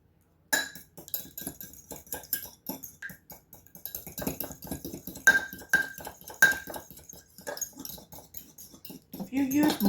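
Three eggs cracked against a bowl and beaten, with a string of sharp clinks and taps from utensil on the bowl, close and moderately loud, with some talking at times.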